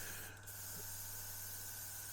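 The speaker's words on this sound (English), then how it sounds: "and we can start spraying" A Gaahleri Mobius-TG trigger airbrush fitted with a fan cap sprays in a steady, faint continuous hiss of air, with a low hum beneath it.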